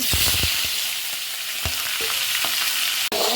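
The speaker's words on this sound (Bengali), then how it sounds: "মাছ আর মশলাটা আমি একসাথে কষাই নেব।" Stinging catfish fries with spices in a pan, giving a loud, continuous sizzle close up, broken by several sharp knocks and scrapes of a stirring utensil.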